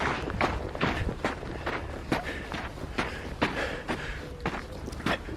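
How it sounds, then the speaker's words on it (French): Footsteps crunch through snow on a ski slope in a steady walking rhythm, close and fairly loud over a constant hiss of snowy ground noise. "J'adore ce bruit de pas dans la... Dans la neige."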